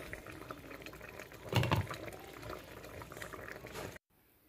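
Rice pre-cooking in a couscoussier over high heat for tiebou dieune, giving a steady bubbling, boiling hiss with a brief louder surge midway before cutting off abruptly near the end.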